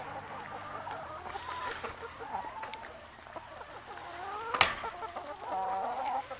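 Chickens in a coop cluck and murmur softly at close range, with one sharp squawk standing out among the quiet, continuous chatter of the hens.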